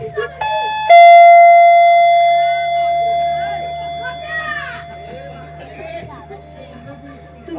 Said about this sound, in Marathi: वेळ झालं बेल वाजवतोय मी